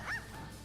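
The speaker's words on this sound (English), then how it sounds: "All that goddamn barking." A single short bark-like yelp from a dog, fairly faint and over a steady low background hum.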